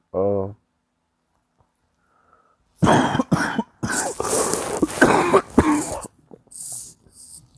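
A brief vocal sound, a pause, then a run of harsh, close coughs in quick bursts that trail off with a few softer breaths.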